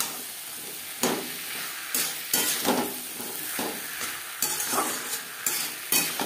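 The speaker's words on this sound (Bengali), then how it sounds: "মশলার সাথে আলু বেশ ভালো করে মিক্স করে দেবো।" A spoon works potato strips through spices in a pan for a tilapia fish curry, producing repeated scraping strokes about once a second over a light sizzle, close and clear with no talking.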